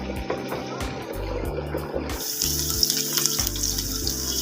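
Onions browning in a pan for Sindhi biryani, a steady hiss and sizzle that swells louder partway through and carries on without pause, with no talk.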